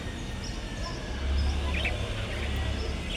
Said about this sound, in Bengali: আমার শখের পাখি আমি শখ করেই পালি